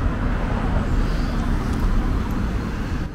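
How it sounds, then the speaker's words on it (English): Dense traffic on Fürstenriederstraße, a major road in western Munich near the Holzapfelkreuth U-Bahn entrance, makes a steady, fairly loud rumbling roar of passing cars and buses with no break. "You might hear in the background the noise of the Fürstenriederstraße"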